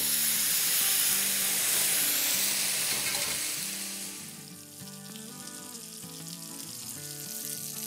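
Kababs sizzle and fry in hot oil for a Bakra Eid recipe, a loud steady hiss at first that eases off midway while music plays underneath.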